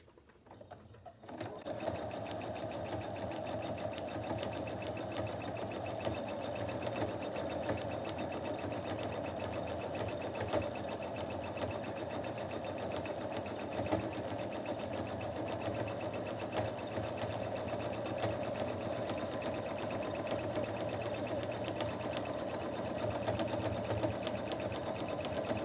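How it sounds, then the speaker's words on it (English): A sewing machine runs steadily, straight-line quilting a pillow sham, after a brief quiet start. Its continuous motor whir and fast needle chatter stay even and moderately close for the whole stretch, with no talking. "I'm just going to do light quilting, straight line quilting, 3 lines in each direction"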